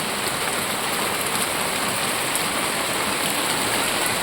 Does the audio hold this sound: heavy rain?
yes